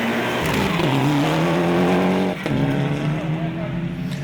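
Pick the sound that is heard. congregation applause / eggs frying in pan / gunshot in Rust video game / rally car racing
rally car racing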